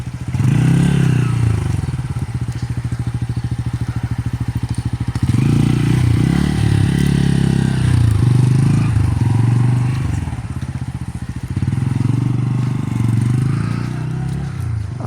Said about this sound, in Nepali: मोटरसाइकलमा घुम्न आइरहेछ